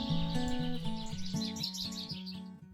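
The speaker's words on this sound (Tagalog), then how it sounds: "may iba't iba ka ring maririnig na huni ng ibon" Birds chirp and tweet busily throughout, including crows, their calls layered over steady, sustained tonal notes, at a sandy beach campsite in Unisan.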